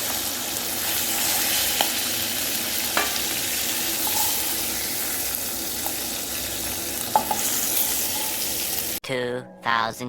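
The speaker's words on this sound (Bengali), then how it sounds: "আমাদের মাছ ভাজা হয়ে গেছে। এবার মাছগুলোকে তুলে নেব।" Rohu fish frying in a pan for a potato curry, a steady broadband sizzle with occasional faint stirring clicks throughout, before the sizzle cuts off near the end and a voice briefly speaks.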